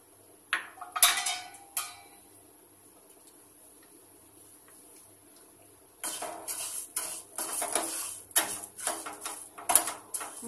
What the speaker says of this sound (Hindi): अब मैं मूंग दाल को थोड़ा सा फ्राई करूंगी।